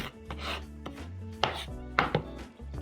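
Knife chopping scotch bonnet pepper on a board while preparing sardine filling for crackers, a few sharp separate chops spaced irregularly, close and clear with no talk.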